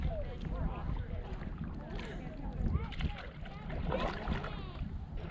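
A canoe or kayak paddles across Sylvan Lake, the water lapping softly and splashing with the strokes, under steady wind and chatty voices nearby.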